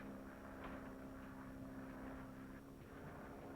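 Steady droning airplane engine in a radio drama, a constant loud hum with a strong low tone running unbroken throughout, no voices over it.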